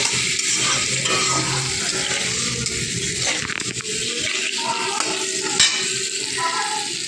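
Paneer pieces lightly frying in butter and oil in a pan, a loud steady sizzle with occasional stirring clatter and a single metallic knock, no voices.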